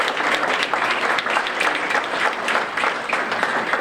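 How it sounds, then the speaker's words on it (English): A crowd at a small-town community visit claps together in a steady, moderately loud round of applause, dense and continuous for the whole stretch with no clear voices on top. "let's have a round of applause for you all just for being here"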